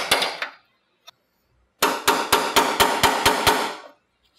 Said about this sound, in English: I've got these two trim hammers.